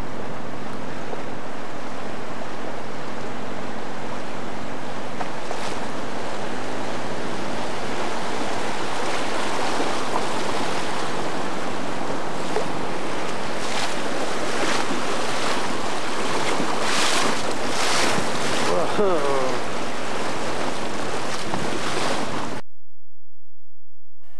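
Rushing water roars loudly and continuously with heavy wind buffeting as a boat moves fast on a river in Northern British Columbia, before cutting off abruptly.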